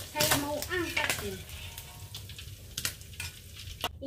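Ikan keranjang fish fries in hot oil in a pan with a close, steady sizzle and crackle, and a person speaks briefly at the start.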